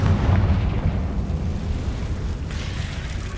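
A Confringo fire spell explodes in Hogwarts Legacy, a loud booming blast that rumbles and fades over a few seconds, with no voices over it.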